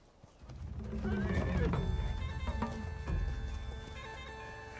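A horse whinnies loudly and close, a long rising-and-falling neigh with hoof clip-clop around it, set in a dramatic film scene.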